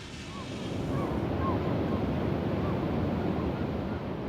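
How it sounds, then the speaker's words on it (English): Ocean waves wash continuously onto a rocky beach nearby in a loud, steady roar of surf, with wind buffeting the microphone. "The sound of the ocean's there all the time for me."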